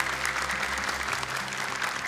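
Applause fills a religious Quran-recitation talent show in Indonesia, honouring an ustaz: a dense, steady wash of clapping from a crowd, loud and continuous throughout.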